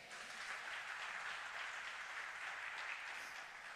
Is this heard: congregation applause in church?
yes